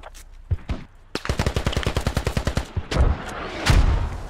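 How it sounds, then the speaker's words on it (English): Bombs dropped in the tactical shooter Squad, heard as a rapid string of sharp, punchy bursts followed by heavier, deeper booming thuds, loud and close. "so some bombs that are being dropped"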